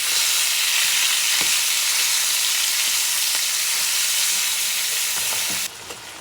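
Ground bison meat fries in a pan with a loud, steady hiss and occasional scrapes as it is stirred and broken apart, the sizzle dropping suddenly near the end.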